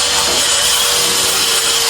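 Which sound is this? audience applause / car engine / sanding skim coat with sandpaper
sanding skim coat with sandpaper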